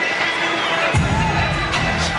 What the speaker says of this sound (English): The fans are booing